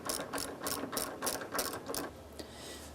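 A ratchet wrench clicks in quick bursts while taking nuts off the radiator expansion tank of a 1997–2004 Ford Mustang. About seven close, evenly spaced strokes come first, then a fainter one as it trails off.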